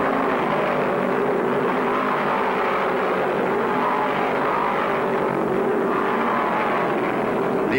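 Stock cars roar steadily through the 1973 Southeastern 500, a dense, continuous engine drone from several cars that swells slightly as they pass, fairly loud throughout with no talking.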